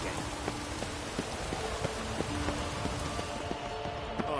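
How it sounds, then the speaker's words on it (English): Steady rain in The Witcher 3, a dense even hiss of drops on surfaces filling the scene, with faint tapping drips scattered through it and no voices. "I like rain. Keeps the rogues indoors."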